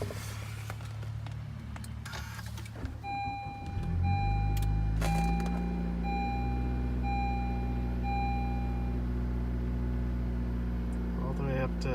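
Honda Civic hatchback cold-starting at about minus 30 degrees: cranking gives way around four seconds in to a steady, rising engine idle with a faint electronic tone above it, close up, and a person speaks over it.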